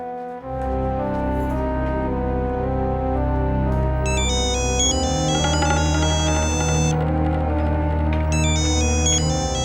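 Electronic phone ringtone playing loud and continuous, a repeating melodic pattern of bright tones with higher chiming bursts partway through, heard alone with no speech.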